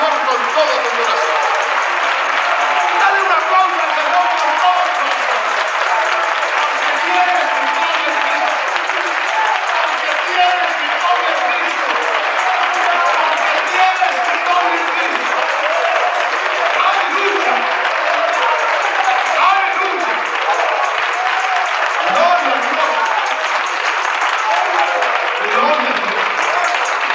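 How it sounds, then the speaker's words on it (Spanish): A congregation at a men's church retreat applauds steadily and loudly for a long stretch, dense continuous clapping with some voices mixed in. "Dale un aplauso al Señor con todo tu corazón."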